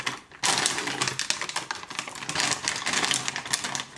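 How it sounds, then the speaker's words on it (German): Scissors cut open a plastic mystery bag in a dense, continuous stream of crinkly snipping and rustling that runs close and fairly loud after a brief quiet start. "Ich habe hier schon meine Schere und mache hier mal auf"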